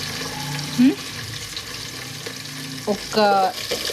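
Green chillies, sliced onion and carrot frying in hot oil in a pan, a close steady sizzle with a few spoon scrapes and stirring knocks.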